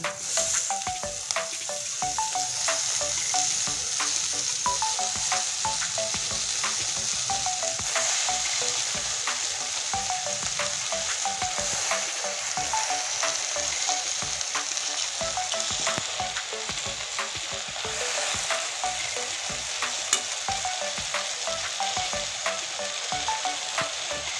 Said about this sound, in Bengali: কমলি শাকটা দিয়ে দিচ্ছি